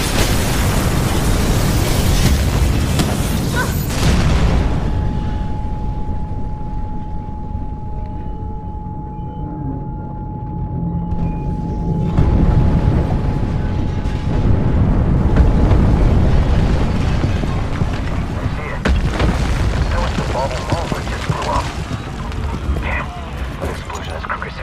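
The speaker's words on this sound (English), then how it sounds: "Explosion over here!" An explosion in the video game Mirror's Edge Catalyst, a loud booming blast with rumbling debris that fades into a sustained low roar and mechanical hum, followed by further rumbling.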